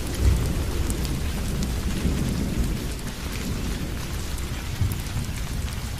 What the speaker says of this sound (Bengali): চারিদিকে বৃষ্টির সাথে দমকা হাওয়া বইছে।